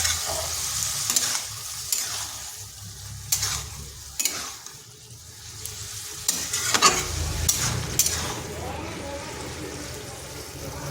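Cabbage stir-fried with potatoes in a pan, a steady sizzle broken by scraping stirs at irregular intervals, close and fairly loud.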